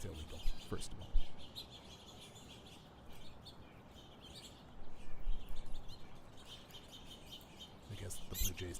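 Birds calling around morning bird feeders, including blue jays, with sharp chirps and squawks over a soft outdoor background, some calls louder and nearer, with a voice talking at times.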